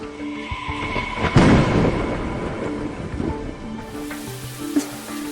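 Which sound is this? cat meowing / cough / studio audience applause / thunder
thunder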